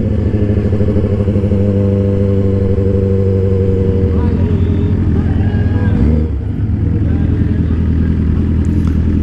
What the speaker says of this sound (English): Tons of Harleys.